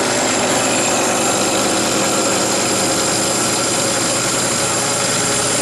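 A milling machine cuts a knife blank at 3,000 RPM, giving a loud, steady, dense machining roar with some chatter, running continuously from start to finish with no talking.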